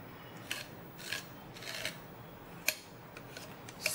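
Excess embossing paste is scraped off a surface with a tool, soft repeated rasping strokes, quiet and close, with a few sharper clicks.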